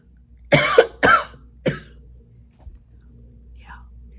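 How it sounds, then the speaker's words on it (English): A person with a cold coughs three times in quick succession, loud and close, the bursts shortening and fading, followed by quiet room tone with a faint soft sound near the end. "Yeah, I'm coughing."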